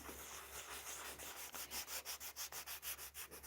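Hand sanding of a wall while finishing a paint room: steady scratchy rubbing that turns into a regular back-and-forth rhythm of quick strokes, close and fairly quiet, with no talking.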